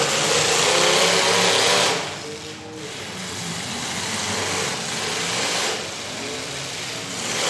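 A demolition derby car engine roars through the pack at a county fair, a loud, steady, harsh drone that dips slightly and swells again over the crowd noise.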